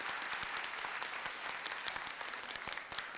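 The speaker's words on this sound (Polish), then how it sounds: "o symboliczne brawa dla pani rektor" A university inauguration audience gives symbolic applause for an absent rector, a continuous wash of many hands clapping in a large hall, fairly distant and soft, with no voices over it.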